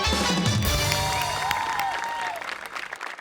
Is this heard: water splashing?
no